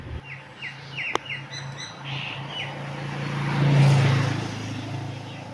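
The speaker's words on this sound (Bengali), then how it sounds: "একটি গরুর সাথে একটি পাখির কিরকম বন্ধুত্ব কতটুকু বিশ্বাস থাকলে পাখি তার গায়ের উপর বসে থাকে এই পাখিটির নাম ফিঙ্গে পাখি" A black drongo perched on a cow in a Bangladeshi village gives a quick run of sharp, bright chirps, then falls quiet as a car swells past and fades.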